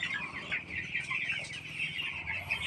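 Broiler chickens in a pen, a busy flock clucking continuously at close range, soft overlapping calls with faint pecking and rustling beneath, and no human voices.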